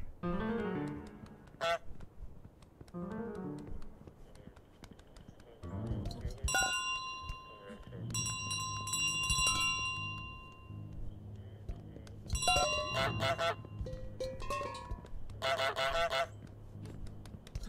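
In Untitled Goose Game, a goose gives loud, close honks in short bursts, mixed with bright, repeated ringing of a small metal bell, over a background of game music.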